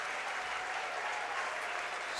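A crowd at a high school wrestling state championship rises and applauds, a steady wash of clapping that keeps going throughout, heard from within the arena at moderate level.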